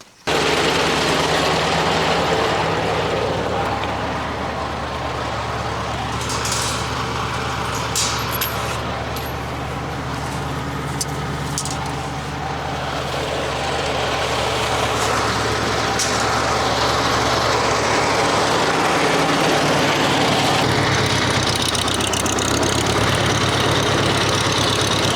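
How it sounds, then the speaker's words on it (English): A farm tractor engine rumbles steadily as it pulls away from a just-filled goat water trough, loud and close, with a low idling drone and some clanking rattles over its run. "let's take the tractor back out where it belongs"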